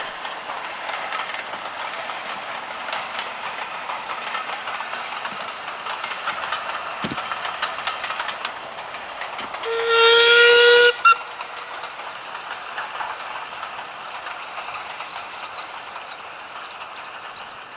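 A Metropolitan Railway E-Class 0-4-4 steam tank locomotive passes with a train on the Mid Hants Railway, wheels rumbling and clacking steadily as a loud whistle blows for about a second midway.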